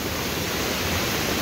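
A flooded, swollen river rushes past in a dense, unbroken roar of water, loud and close, with no voices.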